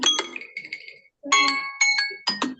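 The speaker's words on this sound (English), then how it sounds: "The bell has rung." A quiz-competition bell sounds with bright, metallic chimes in two clusters of sharp strikes, a short gap separating them, loud and close with nothing else around.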